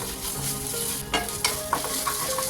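Ginger garlic paste fries with onions in a kadai, giving a steady close sizzle with several light stirring clinks and scrapes over it and no talking.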